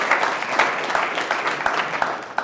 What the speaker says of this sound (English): we all owe him a special round of applause